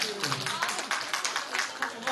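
An audience at a group presentation event in Seogwipo claps in a dense, steady wash of applause, with a voice talking over it.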